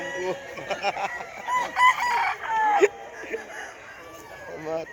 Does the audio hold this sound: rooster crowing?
yes